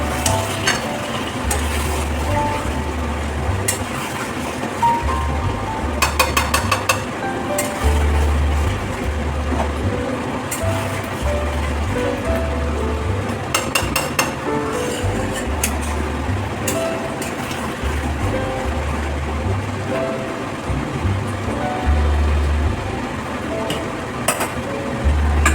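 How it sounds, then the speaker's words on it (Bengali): Potatoes being stirred into a chicken curry frying in oil in a pan for Bengali chicken curry, a steady sizzle with scraping and clinking of a spoon against the pan continuing throughout at close range. "এবারে আলু দিয়ে দেবো, একটু নাড়াচাড়া করে দেবো।"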